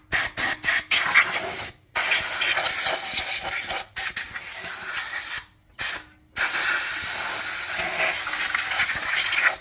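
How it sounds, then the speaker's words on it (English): Compressed air from an air compressor blows out the rocker cover area of a Honda CR-V K24 engine in loud, close hissing bursts separated by brief pauses, ending in one long sustained blast. "I like to get my air compressor out."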